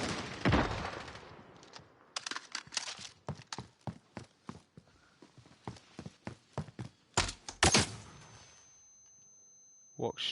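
Sharp gunshots crack in scattered bursts, some quick volleys and some single shots, with a few louder blasts near the middle before things go quiet.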